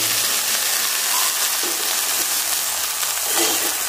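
Boiled field beans (mochai) tipped into a pan of sautéed onions for a theeyal curry, giving a close, continuous frying hiss with light stirring scrapes and no talking.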